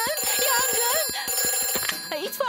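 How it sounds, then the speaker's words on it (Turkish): A cartoon fire station telephone rings with a fast, rattling electric bell trill in two bursts, loud and close, followed by a brief bright sound at the end. "Peppa, o itfaiye telefonu"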